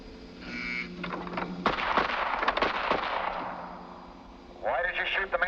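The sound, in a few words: gunfire in a police shooting drill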